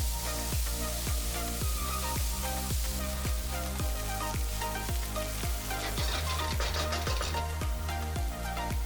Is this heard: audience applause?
no